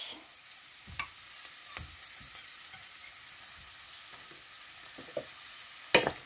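Carrots frying in a pan with beans, a quiet sizzle punctuated by several soft knocks and scrapes of a stirring utensil, ending in a sharper clatter.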